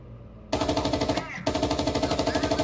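Rapid machine gun fire in the tank game GHPC, a loud steady rhythmic burst of shots that starts abruptly, breaks off for a moment, then resumes, with no talk over it.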